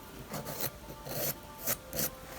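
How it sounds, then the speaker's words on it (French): A nail file rasps across a natural nail surface to remove its shine before a gel nail application without tips, in about five short, close scraping strokes with brief pauses between them and no talking. "il ne faut pas non plus trop limer, parce qu'après ça va faire mal"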